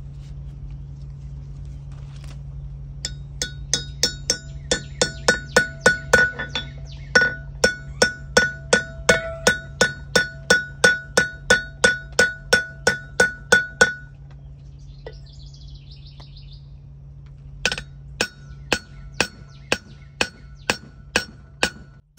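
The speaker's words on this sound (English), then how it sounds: "I'm going to use a hammer just to get it started." Steady hammer taps drive a new bearing race into a 14k gooseneck trailer hub, about two dozen sharp metallic clinks in an even rhythm, then a short pause and a few more blows, over a low constant hum.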